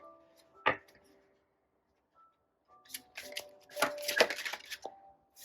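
Tarot cards being shuffled by hand, a sharp single snap followed by a burst of rapid riffling and slapping of cards, close but fairly quiet against a near-silent room.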